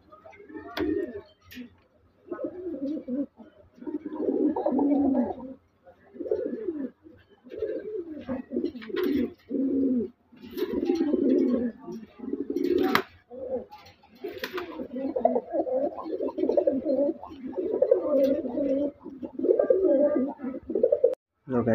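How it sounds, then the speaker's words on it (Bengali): Pigeons coo close by in repeated soft, throaty bursts, one call following another with brief pauses, plus a few faint chirps. "কবুতরগুলো অনেক সুন্দর"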